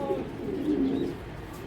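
Black racer pigeons coo softly in a low, rolling murmur, close by and steady with no talking.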